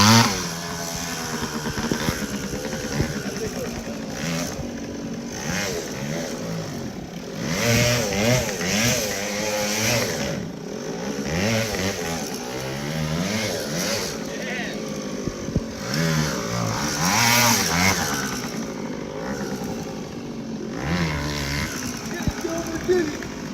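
Dirt bike engine running and revving in snow, a loud close buzzing drone that rises and falls throughout with people talking over it.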